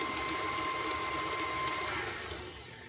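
An electric mixer creams butter and two kinds of sugar into cookie dough, giving a steady, close whirring hum that eases slightly toward the end.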